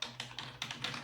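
Typing on a Logitech K375s multi-device keyboard produces a quick series of soft, close key taps in an even rhythm, about half a dozen strokes with no voices.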